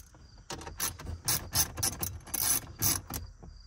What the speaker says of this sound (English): So now you're gonna have the 7 millimeter with the ratchet.